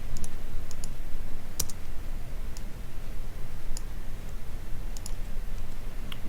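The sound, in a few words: mouse clicking the bullet box in Blackboard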